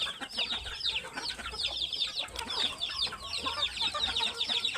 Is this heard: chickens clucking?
yes